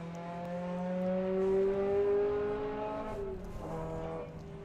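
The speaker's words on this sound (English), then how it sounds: "you can hear him just ease off the throttle at the strike there" A drag racing car at a Bug Jam strip lets off the throttle at the finish line, its loud, steady engine note dropping and fading as it passes, with no talk over it.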